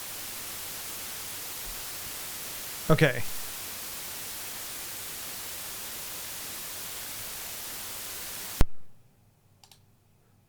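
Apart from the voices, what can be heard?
generated white noise from a Rust WAV noise generator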